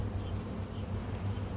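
Honey bees drone steadily in a close, dense buzz from an opened hive of recently combined colonies, with no voices.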